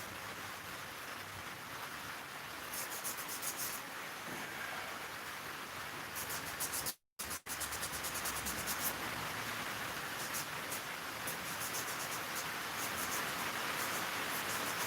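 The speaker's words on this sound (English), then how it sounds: "You guys hear the rain?" Steady broadband hiss of rain falling, constant and unbroken, with a brief dropout midway and no voices.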